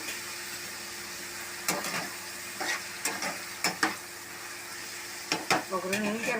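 Raw banana pieces frying in a pan with a low continuous sizzle, punctuated by several distinct scraping stirs and spatula knocks at irregular intervals, moderately close.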